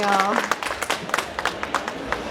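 An audience at the NEA District Fair applauds a singer in a short burst of clapping, beneath and after a voice.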